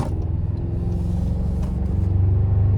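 A 2026 Toyota Tacoma TRD Sport pickup with a 2.4-litre turbo four-cylinder, in eco mode, pulls out of a corner under light throttle; a steady, loud cabin engine drone swells slightly as it gains speed.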